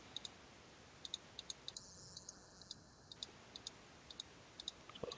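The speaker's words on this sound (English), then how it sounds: "Let's keep clicking through here." Mouse clicks while stepping through a War card game on a computer, a steady run of sharp, fairly quiet single clicks spaced about every half second, with no talking.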